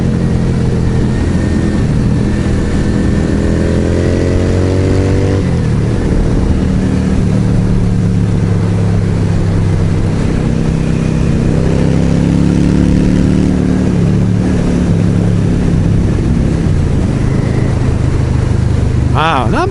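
A Yamaha V Star 650 motorcycle engine drones and rises and falls in pitch while riding through corners, heard beneath loud, constant wind rush.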